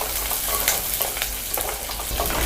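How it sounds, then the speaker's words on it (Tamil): Garlic and small onions sauté in oil over a medium flame while cooking milagu kara kuzhambu, a steady close sizzle with light stirring scrapes and no voices. "இதை மீடியம் ஃப்ளேமில் வச்சுட்டு நம்ம நல்லா வதக்கிக்கலாம்."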